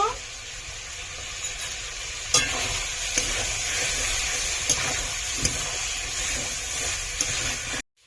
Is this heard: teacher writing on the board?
no